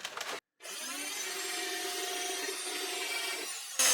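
A power drill with a step drill bit whirs steadily as it opens up a hole, after a short pause. The grinding hum stays even and close until the clip ends.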